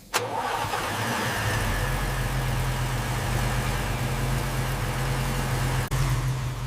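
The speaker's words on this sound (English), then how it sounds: "Listen carefully. The HEMI speaks again." A 1970 Plymouth Hemi Cuda's big Hemi V8 engine idles steadily with a deep, lumpy rumble, close and loud, holding for several seconds with a brief dip near the end.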